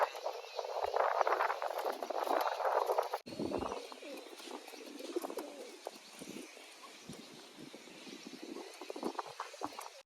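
A pigeon trying to get into its nest box holding eggs gives soft cooing calls with faint scratching and fluttering, quiet and close, with an abrupt shift in background noise partway through.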